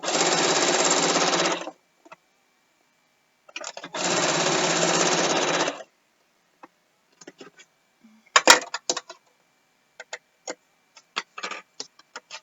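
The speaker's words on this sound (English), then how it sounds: "last bit of sewing" A sewing machine stitching binding runs in two sustained bursts of about two seconds each, close and steady, followed by scattered small clicks and taps of handling.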